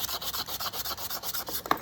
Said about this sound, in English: Sand this up really nicely.